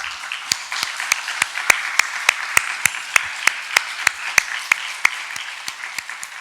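Steady, evenly spaced clapping from a church congregation in unison, about twenty sharp claps in a regular rhythm over a soft background hiss.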